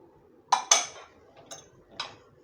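A spoon clinks against a bowl while eggs, cream and sugar are mixed, four sharp, quiet metallic taps spaced unevenly over a hushed background.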